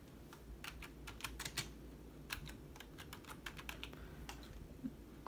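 Fingers type a prompt into ChatGPT on a computer keyboard, with quick clusters of soft key clicks at close range over a steady background hum.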